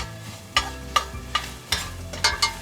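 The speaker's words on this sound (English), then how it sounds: "So now I'm going to add in my garlic and just continue to saute that around a little bit." Garlic sautéing in a hot pan, stirred with a utensil that scrapes and taps the pan in regular strokes over a soft underlying sizzle, close and fairly loud.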